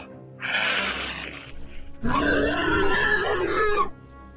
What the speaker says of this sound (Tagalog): Napalingon kami nang marinig ang ingay ng baboy ramo.